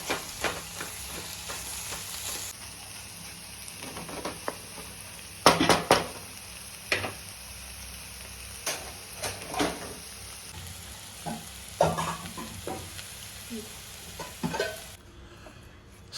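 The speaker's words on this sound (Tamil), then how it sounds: "இப்போது அதை கொஞ்சம் கொஞ்சமாக கிளறி பொடியாக ஆக்கி முட்டை பொரியல்" Eggs scrambling in a pan for Tamil egg poriyal, a soft steady sizzle broken by repeated scraping and stirring strokes of a spoon against the metal, with a few louder knocks near the middle.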